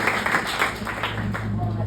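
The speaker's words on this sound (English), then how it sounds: "big round of applause for Jeffrey" Audience at a rugby camp speed and strength clinic giving a round of applause, a brief burst of steady clapping from a group with a faint background hum.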